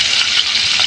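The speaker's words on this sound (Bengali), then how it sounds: "এই দেখো, পেঁয়াজগুলো আমি ভেজে নিচ্ছি।" Onions fry in hot oil with a loud, continuous close-up sizzle and crackle that runs through the whole short moment without any talking.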